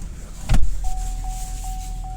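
A 2012 Chevy Cruze being shifted into reverse, with a thud near the start followed by a steady high electronic reverse chime that pulses repeatedly over low engine rumble.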